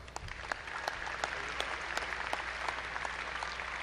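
A university commencement audience at Angelo State claps for graduates, a steady moderate round of applause with individual claps popping out of the wash, heard from a distance.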